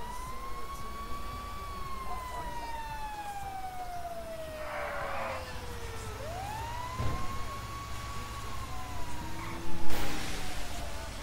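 Emergency vehicle sirens in a video game, a wailing tone sweeping slowly down and back up, running continuously under engine and traffic noise with a few short bursts of other sounds.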